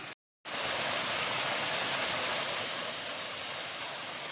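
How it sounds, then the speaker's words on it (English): A waterfall at the water source below the Bellows Pipe and Gould Trail on Mount Greylock, heard after a brief gap as a steady, loud, broadband rush that stays constant and unbroken. "that's actually the water source down there. It's a waterfall."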